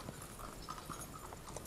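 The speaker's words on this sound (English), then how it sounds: "I hear horses." Horses clip-clop in a faint, steady rhythm of hooves, heard quietly in the background of a TV drama scene.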